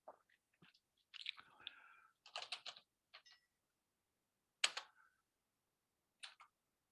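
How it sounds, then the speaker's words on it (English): Computer keyboard typing in a terminal, coming as short, uneven bursts of close, crisp key clicks separated by silent pauses, with no talking. "Are you typing in the terminal?"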